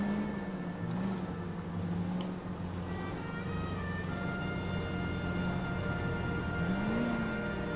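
A car drives steadily through the streets of 1940s Los Angeles in L.A. Noire, its engine holding a continuous low hum with a couple of gentle pitch rises as it accelerates, and no talking.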